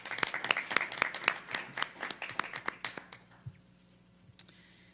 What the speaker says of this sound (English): if we may just have a quick round of applause for our student board members